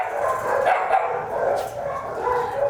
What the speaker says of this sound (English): Here's some more of our smaller dogs.